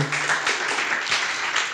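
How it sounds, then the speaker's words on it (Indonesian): A church congregation claps together in a dense, steady burst of applause that carries on evenly throughout, fairly loud and near. "Berikan tepuk tangan sekali lagi buat Tuhan."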